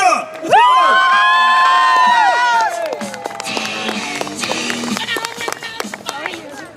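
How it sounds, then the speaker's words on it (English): Outdoor crowd at the Sunderland International Airshow cheers loudly for the Royal Marines Commando display team, a bright whooping roar that swells briefly and then settles into scattered cheers and chatter. "Big cheer!"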